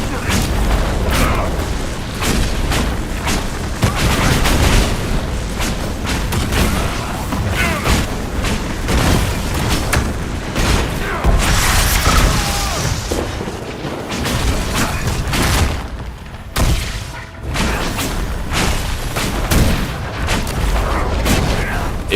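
Loud, repeated explosive booms and bursts of fire from the Dragon Age: Inquisition video game, thudding densely throughout with a brief lull near the end, while a voice talks intermittently underneath.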